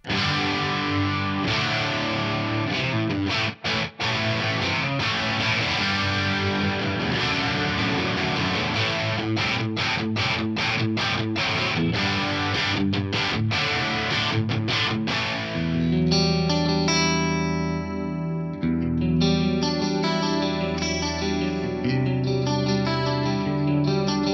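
Clean electric guitar chords shimmer with a wide, doubled stereo pitch-detune effect, strummed continuously and later settling into sustained ringing notes, loud and close without any voice.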